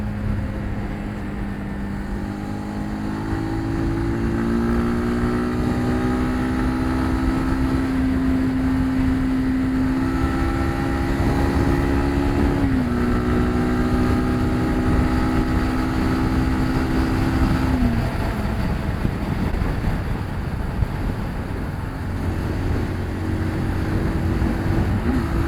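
A SYM NH 250 motor scooter engine drones steadily, its pitch climbing and dropping as it speeds up, with constant wind rushing across the microphone.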